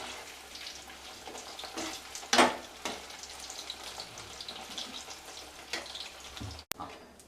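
Rava-coated baby corn frying in hot oil, a steady bright sizzle with scattered pops and a sharp crackle near the middle, close and continuous, then a brief clatter at the end.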